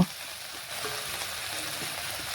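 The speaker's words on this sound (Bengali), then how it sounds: "দিয়ে ভেন্ডিগুলো ভালোভাবে ভেজে নেব" Okra frying in oil in a pan gives a steady, moderately loud crackling sizzle that holds evenly throughout.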